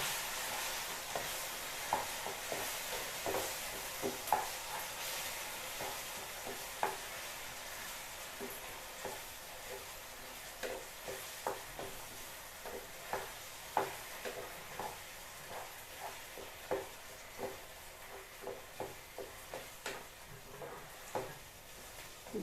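Sorrel greens (puli keerai) are stirred and mixed in a pan for keerai kadaiyal, with a steady faint sizzle under repeated scraping and tapping of the spoon against the pan, close by and with no talking.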